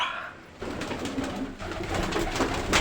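Pigeons coo inside a pigeon room, soft repeated calls close by over a constant rustling background, with no talk.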